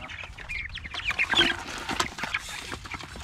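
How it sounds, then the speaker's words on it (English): Meat chickens cluck and squawk at close range in a busy, overlapping flock chatter, rising to a louder burst midway before settling back to steady murmuring. "These meat birds think they're starving all the time."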